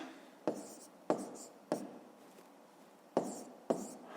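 A pen taps and scratches on paper during a math exercise, five short distinct strokes at close range, quiet, with no talk.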